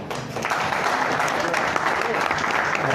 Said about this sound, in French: Applaudissez pour cette grande dame